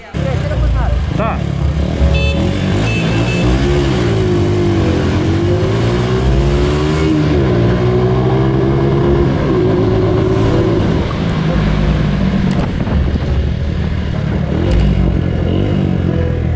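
A motorcycle engine revs hard against the limiter, its pitch rising and falling in loud, sustained bursts close by, with chatter underneath.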